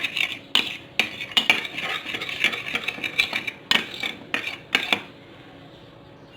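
A spoon stirs face mask ingredients in a bowl, giving a series of close, sharp scraping clinks in irregular bursts, then a quieter pause near the end.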